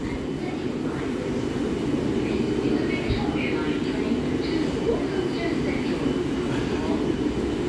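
A London Underground train pulls out of the station with a loud, steady rumble and rolling rail noise filling the platform, while voices are heard over it.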